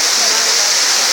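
Heavy rain pours steadily on a street in La Paz, Bolivia, as a loud, dense, unbroken hiss with a close, rushing, waterfall-like wash.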